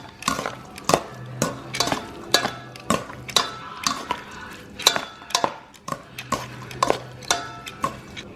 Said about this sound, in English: Now that it's in the stainless steel bowl, just gonna give it a nice little mix.